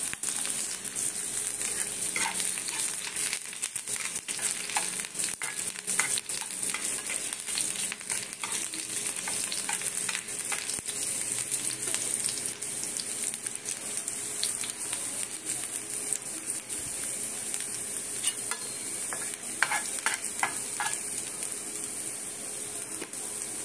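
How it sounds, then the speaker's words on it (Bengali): Chopped ginger and garlic pieces fry in hot oil, giving a steady, close sizzle that runs throughout, with scattered crackles and a few stirring scrapes along the way. "এইবারে দেব আদা আর রসুনের"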